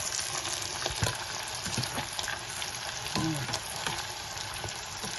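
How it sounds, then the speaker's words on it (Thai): Spring rolls fry in sunflower oil with a dense, steady crackling sizzle, broken by occasional soft pops and light stirring knocks, close and unbroken with no voices. "ทอดปอเปียค่ะ"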